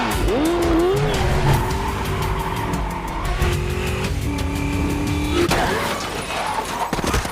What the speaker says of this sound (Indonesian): Film dibuka dengan adegan kejar-kejaran antara mobil dengan motor.